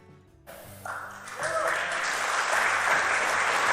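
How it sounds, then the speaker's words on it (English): Applause from the audience at an Oxford Union debate builds gradually from scattered claps into a full, sustained ovation, with some cheering mixed in. "He got an applause"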